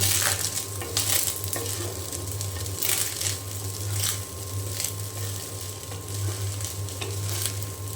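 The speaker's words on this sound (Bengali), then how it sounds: "ভেজে নিচ্ছি এখন" Leftover cooked rice fries in a pan, a continuous close sizzle broken by repeated scraping and stirring strokes, with a steady low hum underneath and no speech.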